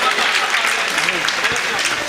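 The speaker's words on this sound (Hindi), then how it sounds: "एक बार जोरदार तालियां अपने लिए बजा दीजिए" A mushaira audience claps loudly for themselves, a dense burst of applause with voices mixed in underneath.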